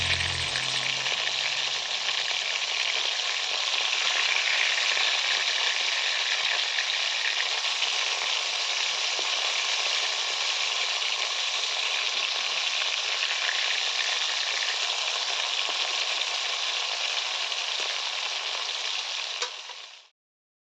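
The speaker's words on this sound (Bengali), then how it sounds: "এইভাবে সমস্ত লোটে মাছগুলো ভালো করে ডিপ ফ্রাই করে নেবো" Lote (Bombay duck) fish deep fry in hot oil with a loud, continuous, even sizzle for about twenty seconds. The sound cuts off abruptly at the end.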